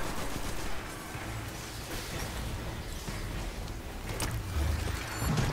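Auto rifle fire in Destiny 2 keeps up a continuous rattle of rapid shots inside a busy, loud game soundscape, with steady intensity from start to finish.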